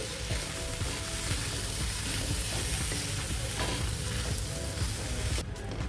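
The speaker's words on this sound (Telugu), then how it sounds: "దొండకాయ ముక్కల్ని బాగా మిక్స్ చేసుకోవాలండి" Chopped ivy gourd pieces stirred and tossed in a hot frying pan for a spicy Andhra-style fry, with continuous loud sizzling and scraping of a spatula against the pan, close up and without any voices.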